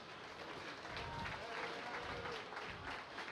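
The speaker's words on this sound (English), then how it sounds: "Let's give her a nice round of applause." Crowd applause at a county fair sheep show after the overall champion breeding sheep is named, a steady wash of clapping heard from a distance, filling the moment without pause.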